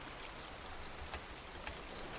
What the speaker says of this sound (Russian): О, смотри, дождь идет, и мне даже поливать не надо.